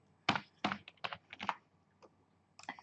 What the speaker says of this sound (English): And I'm going to type that again.